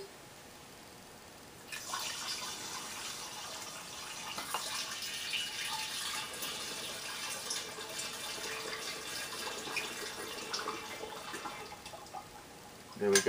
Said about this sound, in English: Add my liter of water.